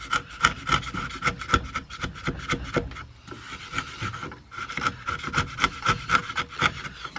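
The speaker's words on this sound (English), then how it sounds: "And then we use a sharp bevel edge chisel, making sure our hands are behind the blade," A sharp bevel-edge chisel pares and cleans up the edge of a wooden corner halving joint, giving close, steady rasping scrapes in quick repeated strokes, with a brief pause midway and no talking.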